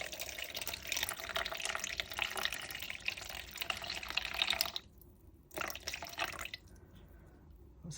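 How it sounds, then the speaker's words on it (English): Water pours in a steady splashing stream, 120 grams into Eco Resin powder for mixing, then stops briefly, restarts, and trails off into quiet drips. "So we're going to start by adding 120 grams of water."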